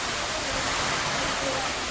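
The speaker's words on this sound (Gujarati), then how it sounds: "વરસાદ ચાલુ થઈ ગયો હતો" Heavy rain pours during a thunderstorm with lightning, a dense, even hiss of water close by that stays steady and loud from start to finish.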